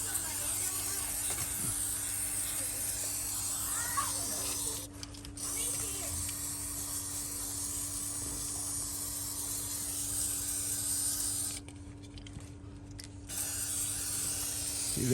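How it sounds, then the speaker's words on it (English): Lubricant sprayed from an aerosol can onto the creaky door hinge of a 1980 Chevy Camaro: two bursts of hissing spray, a short one then a longer one, over quiet background noise. "I just went to close this door and it's very creaky, so just throw some lubricant on here."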